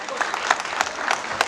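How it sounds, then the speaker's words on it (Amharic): Sparse audience applause at an Ethiopian charity gathering honouring a gospel singer, a thin, scattered patter of hands with a few louder claps standing out, no voices over it. "ኮማን ጭብጨባ ሞር ኤነርጂ።"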